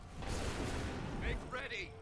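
Musket volley in Assassin's Creed III: a dense, rumbling burst of gunfire spreading across the whole clip under shouted battlefield commands, with crackling reports and a clear voice cutting through near the end.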